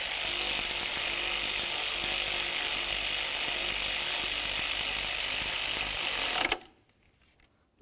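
A ratchet clicks rapidly and continuously while a nut is snugged onto a serpentine belt tensioner on a 2000-2005 Buick LeSabre, then stops abruptly, leaving near silence.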